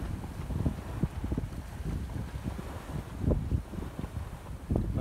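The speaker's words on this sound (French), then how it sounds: "le vent est revenu" Steady wind rushes across the microphone while a sailboat makes about 10 knots under code sail at sea, crossing from Crovani toward Porquerolles; a continuous low rumbling roar with gusty swells, loud and close, and no talking.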